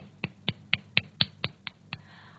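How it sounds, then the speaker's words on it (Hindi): A classroom of students claps in unison, about eight sharp, evenly spaced claps close by, ending with a brief rustle. "आप सब क्लैपिंग बजाएंगे, सब तालियां बजाएंगे"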